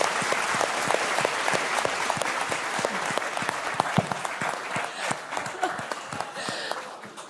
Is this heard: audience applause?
yes